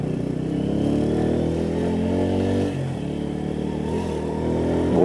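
A Bajaj Pulsar P150 motorcycle engine runs steadily while being ridden on a road test, a loud, continuous mid-pitched drone with a brief dip in revs midway and a slight rise at the end.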